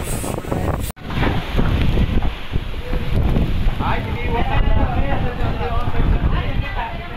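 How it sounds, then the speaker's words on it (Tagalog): Strong typhoon wind gusts roar loudly and steadily across San Luis, Batangas, tearing metal roofing sheets off houses, with a brief dropout early on, then continuous buffeting noise and rattling against the microphone. "Grabe po ang nagaganap na hangin dito sa lugar namin sa San Luis, Batangas."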